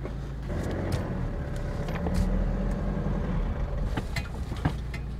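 A 4x2 car drives a rough unpaved road toward a remote spot, engine droning steadily close by while the body knocks and rattles in scattered jolts over bumps.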